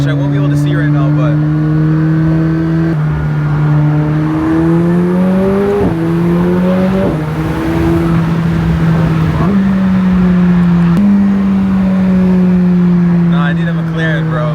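A car engine revs and accelerates loudly from inside the cabin, its pitch climbing through several gear changes with brief dips between them, while people talk over it.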